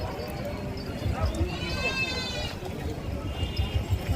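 Sheep bleat amid the crowd at a busy livestock market, one drawn-out bleat rising over constant background chatter and shuffling, fairly close.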